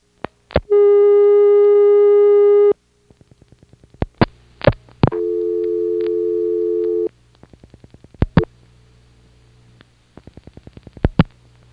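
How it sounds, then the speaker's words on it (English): Call dialed out through a motel PBX into an NX1 telephone exchange: clicking dial pulses, then long steady tones, more pulse trains and a second sustained tone, ending in further clicks, all clear and loud. "Let's try calling Goldston and I'm going to dial one extra digit and see if it gets dialed out."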